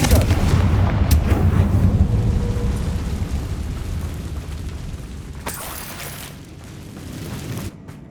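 Confringo fire spell in Hogwarts Legacy, a loud booming blast with a rumbling low roar that slowly fades, followed by a few faint sharp cracks.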